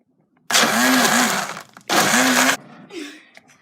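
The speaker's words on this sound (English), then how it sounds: "What we originally planned was to put them all in the blender." A kitchen blender whirs loudly in two bursts of about a second each, pausing briefly between them while blending a mix of foods, followed by a softer rattle as it winds down.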